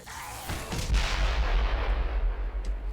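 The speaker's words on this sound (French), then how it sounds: "C'est de l'explosion ça." Heavy explosion in the video game Dead Island Riptide, a single deep boom that rolls on into a long rumbling tail, loud and alone.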